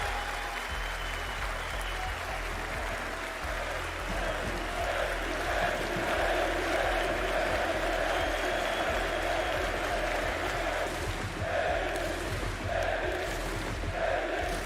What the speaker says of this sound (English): big round of applause for the legendary Kenny S!